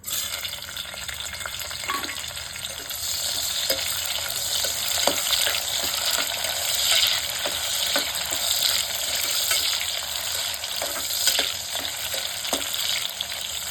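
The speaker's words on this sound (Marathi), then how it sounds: "तेल आता गरम झालं आपलं त्यात आता मी कांदा घालते" Chopped onion drops into hot oil in a pressure cooker on a gas stove, giving a loud, steady sizzle with scattered pops and occasional stirring scrapes, with no talking.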